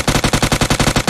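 Rapid automatic gunfire in the mobile battle royale game PUBG Mobile, about a dozen evenly spaced loud shots in one short burst, close and alone without talk.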